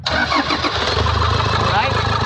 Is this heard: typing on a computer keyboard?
no